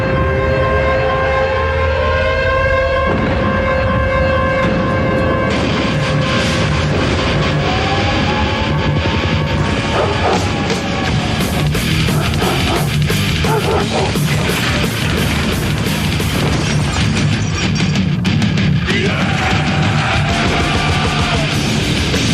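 A theme plays loud and continuous, a dense wall of rock music with piercing siren-like tones and driving pounding beats, no voices.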